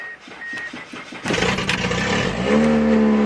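A Mitsubishi Eclipse engine cranks with a rapid starter chatter, catches with a loud roar, then settles into a steady, fairly high idle close by.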